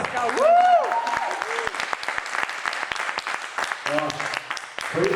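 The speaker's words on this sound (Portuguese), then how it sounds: "Salve de palmas!" Audience applause at a talk, a steady wash of clapping running throughout, with cheers and voices rising above it and brief shouted talk near the end.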